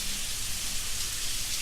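Rain pours in an unbroken broadband wash, soft droplet texture throughout, steady in level and free of speech.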